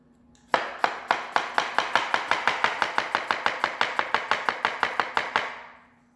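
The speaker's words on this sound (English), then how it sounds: "And we're gonna finely chop this one." Half a red onion is finely chopped on a board with a knife, about two dozen crisp, evenly spaced chops in a quick steady rhythm, close and clear with no talking.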